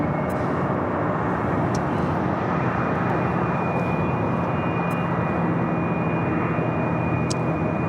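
United Airbus A321neo taking off at LAX, a loud, continuous broadband engine roar that holds steady throughout with a faint high whine and a few brief ticks, no talk.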